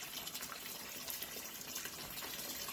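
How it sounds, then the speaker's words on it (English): Cold tap water runs steadily over cooked green beans in a kitchen, a continuous quiet gushing splash with no pauses. "run cold water over them"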